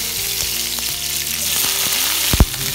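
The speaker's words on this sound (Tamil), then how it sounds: "அடுப்பில் கடாயை வைத்து ஒரு குழி கரண்டி எண்ணெய் விட்டு கடுகு வெந்தயம் சிறிது கறிவேப்பிலை" Mustard seeds, fenugreek and curry leaves sizzle loudly in a ladle of hot oil in a kadai, a dense crackling hiss with small pops and a sharp clunk near the end.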